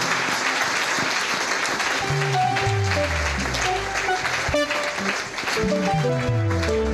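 Church congregation at a Sunday service applauding loudly and steadily, sustained clapping with cheering voices and music tones running throughout.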